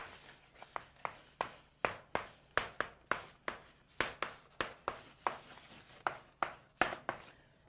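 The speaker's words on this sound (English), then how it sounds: "Let me write it down." A pen scratches across paper in quick rhythmic strokes, close and quiet, with a steady run of short taps and scrapes and no talking.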